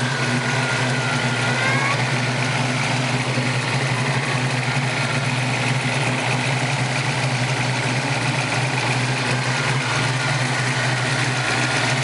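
The V8 in a 1986 Mustang GT with ceramic-coated headers and a ported Explorer intake idles steadily up close, a constant loud rumble with no talk over it.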